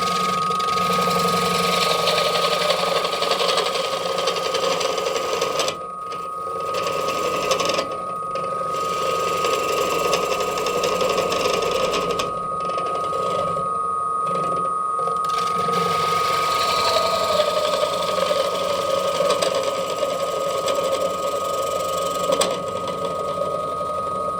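A wood lathe turns a cherry bowl, giving a steady whirring hum with scraping and cutting passes that rise and fall over about twenty seconds, loud and close with no talking.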